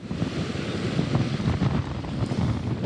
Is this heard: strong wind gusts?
yes